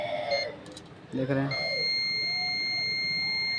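A multimeter set to buzzer mode gives a steady continuity beep, a sustained high electronic tone that starts partway through and holds to the end, following brief speech.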